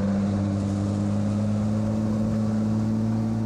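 FIA European Truck Racing Championship trucks, including a MAN, pulling away at the race start on Slovakia Ring. A loud, steady low engine roar with strong droning tones holds throughout, heard from a distance as a blended wall of sound.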